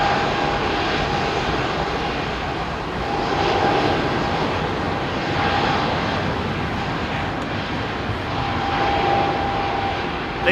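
A fixed-wing airplane takes off from the runway at London Heathrow, its engines a loud, steady roar that swells and eases slightly throughout.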